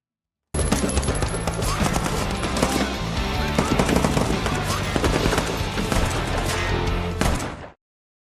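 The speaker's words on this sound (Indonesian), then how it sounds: "mereka menyaksikan pasukan Paldonia dan cohorts saling tembak" A film battle scene with continuous rapid gunfire, loud, dense automatic bursts and overlapping shots sustained for several seconds before cutting off abruptly.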